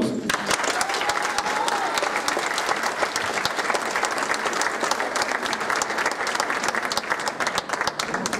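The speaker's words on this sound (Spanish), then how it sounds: "Fuerte el aplauso." A large audience applauds steadily and loudly at a municipal anniversary celebration in Bustamante, a dense continuous wash of clapping throughout.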